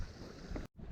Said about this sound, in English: The wind's hacking through, coming straight across into this little bay just to my left hand side here.